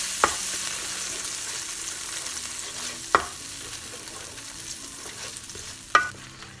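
Diced tomatoes are stirred in a pan for Pakistani karahi-style kabab curry: a soft, low simmering hiss runs throughout, broken by three sharp spoon knocks against the pan, spaced a few seconds apart.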